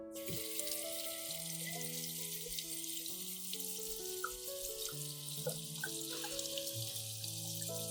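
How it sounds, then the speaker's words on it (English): A pineapple's rough peel is rinsed under a running kitchen tap, the water gushing in a continuous close splash while soft background music plays underneath. "Wash the pineapple peel."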